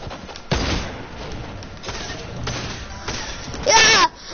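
Gunfire in a Fortnite match, including sniper shots: several sharp, loud cracks at spaced intervals, the last one brighter and ringing, over a busy game background.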